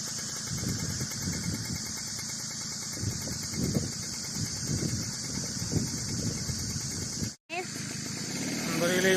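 A motorcycle climbs a hill road on a bend with a steady mid-pitched engine drone and passing wind, while people talk over it and a brief dropout occurs near the end.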